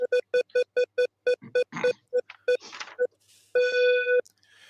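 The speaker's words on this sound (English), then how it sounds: "Here's a random phone scrambler to select our next player." Telephone keypad tones from a random phone scrambler on a radio trivia show: a rapid string of about a dozen short, evenly spaced beeps, then a scratchy burst and a longer sustained tone.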